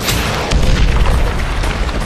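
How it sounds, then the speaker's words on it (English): A missile strikes an enemy bunker during the Battle of Takur Ghar, giving a loud, heavy boom with a deep rumbling roar that fills the whole short moment. "One of the missiles scores a direct hit on the enemy bunker."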